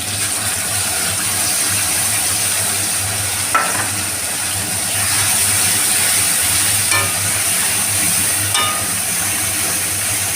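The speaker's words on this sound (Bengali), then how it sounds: "টমেটোটা ভালো করে নাড়াচাড়া করে এর মধ্যে সেই সর্ষে বাটাটা দিয়ে দেব।" Tomato and mustard paste are stirred in a hot pan while making a spicy pabda fish curry. A continuous sizzle is broken by a few brief scraping clicks from the spoon, close and fairly loud, with no voices.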